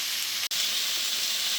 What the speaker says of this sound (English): we're going to put a lid on it and let this sit and steam